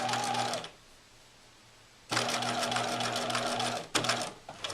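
Sewing machine stitching a basic seam, a fast rapid needle chatter in two close bursts separated by a quiet pause, then a brief final burst.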